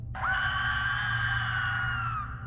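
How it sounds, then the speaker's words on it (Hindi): A distant, drawn-out scream carries over a sea shore at night, a single sustained high wail lasting about two seconds over a low steady background rumble, with no talking. "एक चीख सुनाई दी।"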